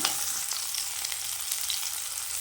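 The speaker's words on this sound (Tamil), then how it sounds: "இதுக்கு நான் சின்ன வெங்காயம் சேர்த்துருக்கேன்" Small onions fry in hot oil for a fish curry, giving a continuous bright crackling hiss at an even level with no voices.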